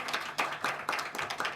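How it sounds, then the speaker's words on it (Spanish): Audience at a university literature colloquium clapping for speakers and moderator, a quick run of scattered claps in a hall, moderately loud and brief. "Les pedimos un aplauso también a nuestros ponentes y a nuestra moderadora, Mariana"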